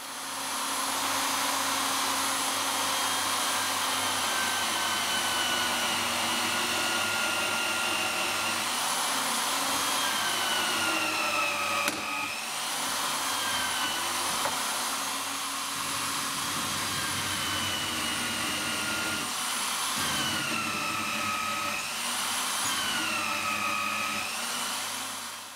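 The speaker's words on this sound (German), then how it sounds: "Bohren wir jetzt ein 4 mm Loch durch." A high-pitched power drill whines continuously for a long stretch, boring a 4 mm hole through a sliding table fence, its pitch dipping briefly a few times under load.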